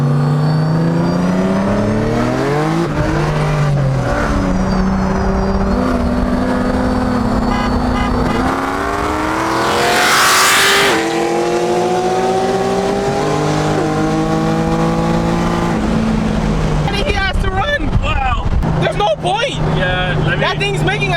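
A big single-turbo Nissan 370Z races a heads-cam Corvette of about 900 horsepower. Loud engines rev and climb through rising, falling gears, with a sharp whooshing peak midway and voices talking over the noise.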